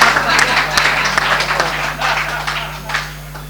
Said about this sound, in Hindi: एक बार जोर से ताली, जो ना पीटे अपनी ताली उसको पीटेगी घर वाला